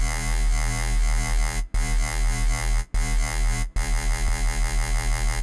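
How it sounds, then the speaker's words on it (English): A buzzing Reese bass built from two detuned sine waves drones with a wobbling, phasing movement, cut by three brief silent gaps between sustained notes. "So that's that classic Reese movement across your keyboard."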